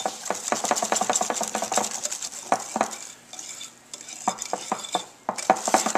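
A spoon stirs peach cobbler batter in a pan with quick, rhythmic scraping clinks that pause briefly midway before resuming, loud and close with no talk.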